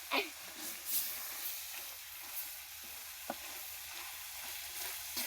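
Chicken meat frying in a pan gives a soft, steady sizzle heard close up, with a few faint clinks and knocks in the background and no talk.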